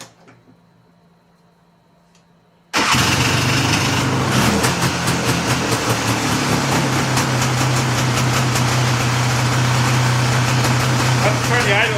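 A Polaris ATV engine, revived after sitting unused, sputters to life after a quiet stretch and settles into a loud, steady, high-pitched running idle close by.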